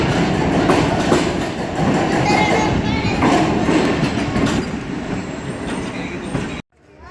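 Passenger train, the 11 Hazar Express running between Karachi and Havelian, rolls past at Nawabshah railway station: a loud, close, continuous rumble of wheels and carriages with rattling clatter, cutting off abruptly near the end.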